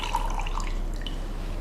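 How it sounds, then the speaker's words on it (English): Brewed French press coffee pours into a glass as a light, steady trickle with a few drip-like splashes near the start, close and fairly quiet under a low hum, with no talking. "into this, I'm going to pour all my brewed coffee from earlier"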